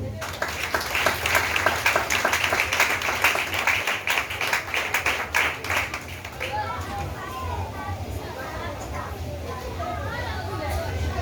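A church congregation breaks into rhythmic group clapping and cheering to praise the Lord, loud and close for several seconds before it fades into murmuring voices and children's chatter.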